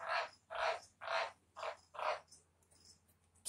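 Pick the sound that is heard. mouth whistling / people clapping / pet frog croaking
pet frog croaking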